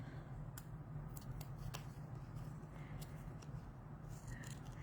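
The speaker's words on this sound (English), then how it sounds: "now you can cut around the image" Scissors snip around a printed image on designer series paper for a brown bag album, a steady run of close, quiet cuts over a soft, constant background hiss.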